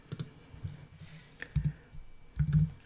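Scattered key presses and clicks on a computer keyboard and mouse during spreadsheet work in Google Sheets: faint, close, irregular taps in small clusters with quiet gaps between them and no speech.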